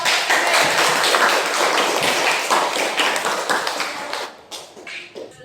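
A class of students claps hands together after presentations in an arts and culture lesson, a dense, close burst of clapping that thins into a few scattered claps toward the end.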